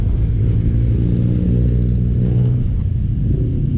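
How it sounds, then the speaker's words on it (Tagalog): A crane driving posts into the ground at a construction site on a highway, a loud, close, steady low engine rumble with no distinct impacts. "Ito yung crane, ito yung nagbabaon ng poste."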